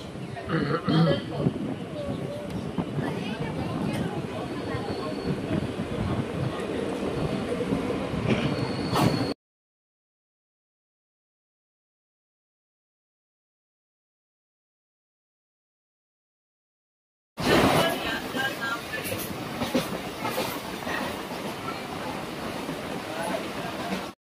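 A local train on the Digha to Howrah line pulls out of Ramnagar station with a steady rumble of wheels and faint squeals. A silent gap falls midway, then the rolling sound resumes, with voices faintly under it.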